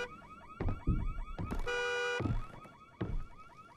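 Car horn honking in the horror game Visage: one sustained blare lasting about half a second, standing out clearly against a low, moody game ambience with intermittent thuds and no voices.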